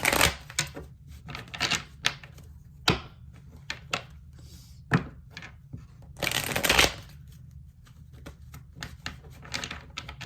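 Tarot cards being shuffled in quick crisp riffles and flutters, several bursts with short pauses between, close and fairly quiet, no voices.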